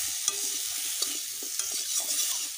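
Okra frying in a pan with salt and turmeric while being stirred: a close, steady sizzle broken by several scraping, clattering strokes of the spoon against the pan.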